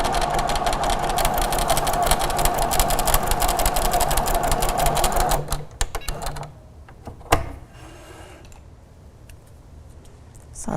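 Little Rebel sewing machine running steadily while sewing a quilted table runner seam, a dense continuous whir for over five seconds before stopping, followed by faint handling clicks and a short rattle in a quiet room.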